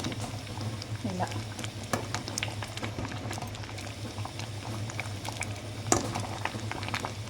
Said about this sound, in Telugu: పప్పు చూసారు కదండి ఎంత బాగా అనేది ఉడుకుతుందో